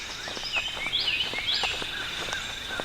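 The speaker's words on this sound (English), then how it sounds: "Hear those birds." Songbirds sing on a morning along a rural road, with repeated bright chirps and rising whistled phrases overlapping one another at moderate distance, and no voices.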